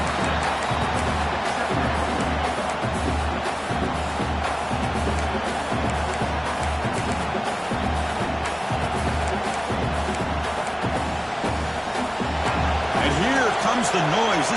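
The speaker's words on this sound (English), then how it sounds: "This crowd is trying to inspire this defense to make a big red zone stop." Stadium crowd at a college football game roaring steadily as the home defense tries for a red zone stop, a dense continuous wall of cheering and noise under a broadcast announcer talking.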